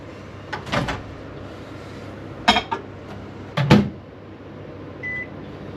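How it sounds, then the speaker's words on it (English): Microwave door clunks open, a container clatters inside, the door thumps shut, then a keypad beep sounds. "let's get her in the old microwave and go"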